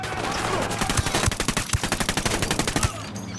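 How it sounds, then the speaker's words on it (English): Rapid automatic gunfire from a firefight in Ghost Recon Wildlands, a dense train of sharp, evenly spaced shots that starts about a second in and keeps going for roughly two seconds over steady background ambience. "Opening fire."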